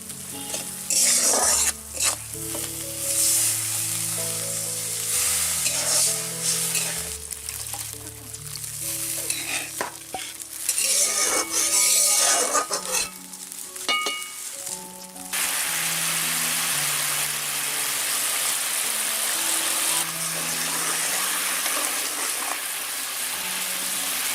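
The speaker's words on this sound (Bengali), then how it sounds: "মশলা থেকে তেল উঠে আসছে এবার আমরা একটু জল দিয়ে দেবো" Spice masala frying in oil for a raw banana kofta curry, loud busy sizzling and scraping, then water poured in partway through turns it to a steady softer hiss and bubbling.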